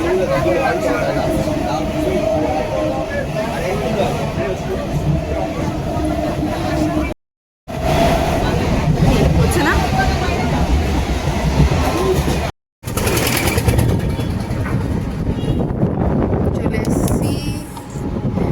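An Indian passenger train running on its rails near a station, a continuous loud rumble and rattle of wagons with wind buffeting, heard from close by with a couple of brief cuts, and some talk in the background.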